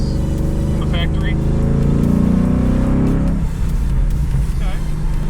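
A Mazda MX-5 Miata fitted with a 5.0 Coyote V8 and a limited-slip differential roars loudly under acceleration, a dense low engine drone that holds steady and then drops off partway through, with faint speech over it.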